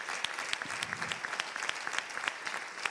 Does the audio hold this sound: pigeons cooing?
no